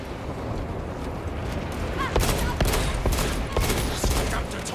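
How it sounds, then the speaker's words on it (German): Rapid gunfire against Xenos in the video game Space Marine 2: dense, continuous bursts of shots that grow louder and more intense partway through, with heavy layered impacts throughout. "Man darf nie aufhören, auf den Xenos zu schießen,"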